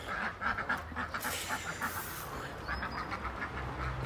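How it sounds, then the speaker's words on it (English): Ducks quacking while being fed with mealworms alongside chickens, a steady run of nasal calls close by over a busy outdoor background, with no talking. "Feed the chickens and ducks."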